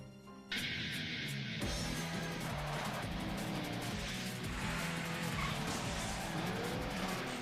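Radio-controlled cars race and skid in the Re-Volt video game, with engines whining and tires squealing loudly after a brief quieter start, forming a continuous busy roar of motors and skids with no talking.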